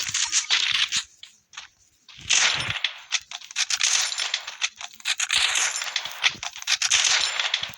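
Video game gunfire crackles in bursts, rapid automatic volleys and single sharp shots separated by short quiet gaps, close and loud with bright, tinny tails, and no talking over it.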